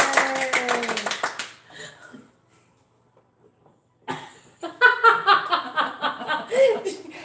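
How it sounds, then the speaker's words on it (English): A few people clap together during a live stitching chat, the claps coming in a short burst that fades, then starting up again, mixed with laughter and chatty voices. "Everybody has to clap"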